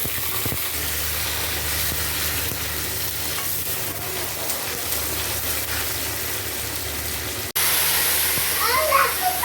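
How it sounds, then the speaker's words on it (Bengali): Spices tempering in hot oil sizzle and fry in a pot of jackfruit vegetable curry, a steady loud crackle lasting most of the clip before a sharper, brighter sizzle near the end. "তার জন্য এই হাঁড়িতে বাগার দিয়ে দিব"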